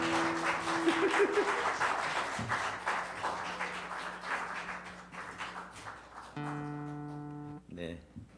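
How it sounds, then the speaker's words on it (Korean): An audience claps steadily through the first half, loud at first and then tapering, while a voice talks over it and sustained musical tones sound beneath, followed by a brief humming pitched note near the end. "박수 한번 쳐주십시오"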